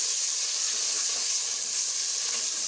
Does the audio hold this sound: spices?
yes